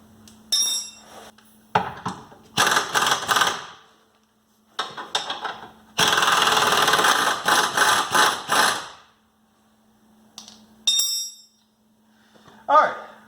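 Metallic clanks and ratcheting bursts from tools loosening axle bolt nuts on a Jeep Cherokee XJ Dana 30 front axle, several separate loud clattering spells broken by pauses.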